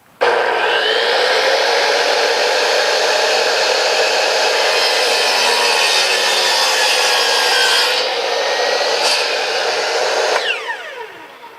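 A saw cuts through a wooden board for building an outhouse, giving one loud, steady, continuous whining buzz for about ten seconds before it stops and trails off.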